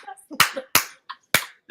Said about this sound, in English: Good old choir clap